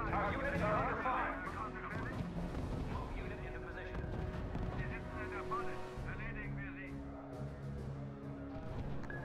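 Artillery and gunfire from the RUSE strategy war game sound as a dense continuous rumble of explosions, with radio-style voices talking over the battle throughout.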